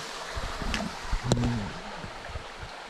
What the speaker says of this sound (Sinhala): උඩා දියපාරක් තමයි මෙතනින් ගලාගෙන යන්නේ.